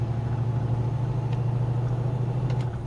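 A truck driving close by: a steady, low engine rumble with a constant drone and no voices.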